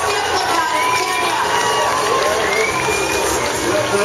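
A large roadside crowd roars and cheers without pause at the Chicago Marathon 2015 as Florence Kiplagat of Kenya pushes for the lead, loud, dense and close, with shrill shouts rising over the mass of voices.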